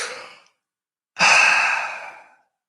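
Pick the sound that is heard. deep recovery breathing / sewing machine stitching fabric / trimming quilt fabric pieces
deep recovery breathing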